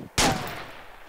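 A single sharp gunshot cracks out in Arma 2, loud and close, then trails off into a short fading echo with no voices.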